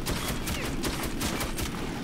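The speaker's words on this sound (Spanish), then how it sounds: "Me están disparando" Rapid bursts of gunfire from the video game Metro 2033, dense and continuous, with sharp repeated shots layered over a noisy, rumbling background.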